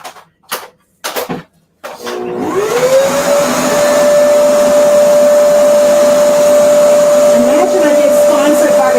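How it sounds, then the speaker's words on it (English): A salon vacuum for removing hair is switched on after a few clicks and handling thumps, spinning up into a steady, loud, close motor whine with a rising pitch that settles and holds. "I'm activating this vacuum that's great for removing hair in the salon"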